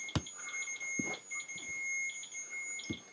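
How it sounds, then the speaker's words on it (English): Electronic temperature alarms on two paranormal investigation devices beep in a quiet room, short high-pitched chirps repeating in an irregular pattern alongside faint thumps and knocks. "Temperature alarms on 2 devices simultaneously."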